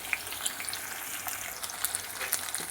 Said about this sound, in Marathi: पनीर फ्राय करायला टाकत छान पनीर फ्राय होत आहे